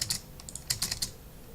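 Fast, light clicking of computer keyboard keys in short irregular bursts, quiet and close, with brief pauses between clusters of keystrokes.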